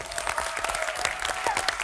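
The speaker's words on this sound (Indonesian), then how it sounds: "sekali lagi teman-teman tepuk tangan untuk Mbak Najwa Shihab" Live quiz audience claps for Najwa Shihab, a steady patter of many hands with a few sharper claps standing out, fairly close and continuous.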